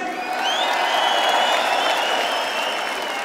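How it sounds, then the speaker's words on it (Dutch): A large arena concert audience at GelreDome applauds a band, a dense, steady wash of clapping and cheering that holds at full strength for the whole span with no talk over it. "We graag een fantastisch applaus. Voor mijn muzikale vrienden."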